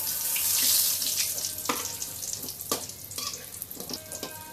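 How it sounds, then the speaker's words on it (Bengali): Eggplant fritters (beguni) frying in hot oil, a steady close bubbling sizzle with occasional sharper pops and crackles, no voices. "এইভাবে সব বেগুনিগুলো ভেজে নিব"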